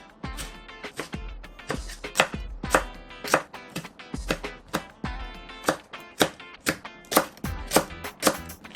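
Green onion and chili peppers are chopped with a knife on a cutting board in a steady series of crisp, close knocks, about two per second, with no talk.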